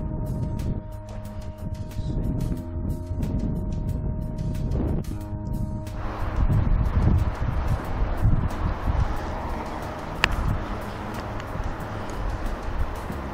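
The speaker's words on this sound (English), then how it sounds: "a lot of wind today." Steady wind buffets the microphone outdoors while a Parrot Anafi drone flies, a continuous rough rushing roar with a faint mechanical hum underneath, growing heavier midway through, with no talking.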